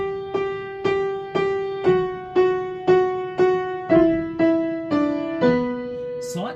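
Piano playing a part of a song moved up one step, a slow series of evenly spaced single chords, each struck firmly and left to ring and decay, the bass line stepping downward, alone and close.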